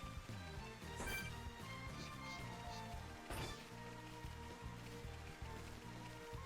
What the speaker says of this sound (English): here we're getting rain like constantly